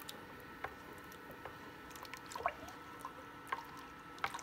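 Dye solution being stirred for fiber dyeing, soft close liquid squishes and light drips at irregular intervals over a quiet background.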